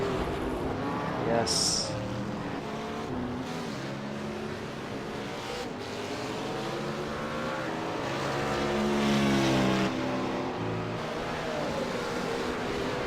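Race cars, a Ferrari among them, battle at the 24 Hours of Spa with steady engine drone and rising and falling revs as cars pass, under continuous race commentary.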